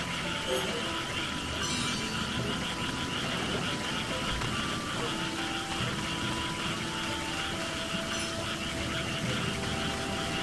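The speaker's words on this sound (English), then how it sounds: "Stop making noise, you suckable frogs!" Frogs croaking in the rice-farming video game Sakuna: Of Rice and Ruin, a dense steady chorus of rhythmic croaks that fills the whole stretch at moderate loudness, with faint game ambience beneath.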